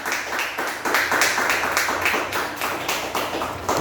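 A church congregation clapping during a service, steady rapid handclaps from many people close by, rising and falling in waves with no speech over it.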